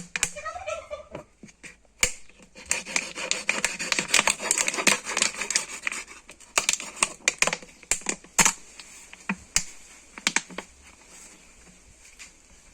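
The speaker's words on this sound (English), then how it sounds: "So I'm going to cut this very container." Plastic Coca-Cola or Pepsi PET bottle being cut with a blade, giving a dense run of sharp clicks, snips and crackles, irregular and close, with no talking.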